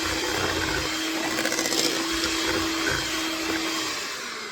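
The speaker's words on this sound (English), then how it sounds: "Starting it up and blending it all." Blender motor whirring steadily as it purees low carb pumpkin pie filling, a loud continuous drone with a fixed hum and slight surges in load throughout, no talking.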